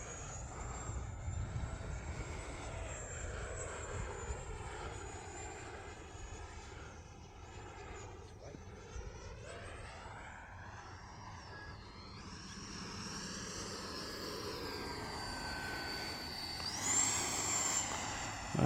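An E-flite F-16 Falcon 80mm RC jet with an uneven, pulsing engine makes a continuous whining ducted-fan roar, swelling and falling in pitch as it passes around overhead at moderate distance.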